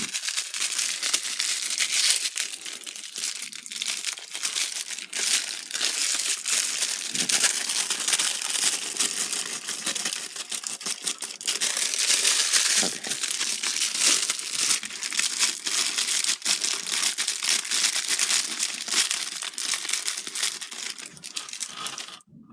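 Tape pulled and peeled from a Power Rangers Lightning Collection toy package, with loud, continuous crinkling of plastic and cardboard close up and repeated tearing rips throughout.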